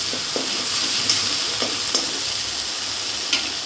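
Spice masala fries in a pan over medium-low heat while it is stirred. A steady sizzle runs throughout, broken by several sharp scraping strokes of the spoon. No one speaks.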